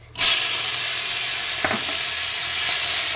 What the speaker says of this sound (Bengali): ফোড়ন ভাজা হয়ে গেছে, এবার আমি দিয়ে দেব ধুয়ে রাখা চিংড়ি মাছ